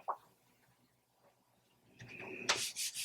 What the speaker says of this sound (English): give it a good rub. That'll stick it to the cardstock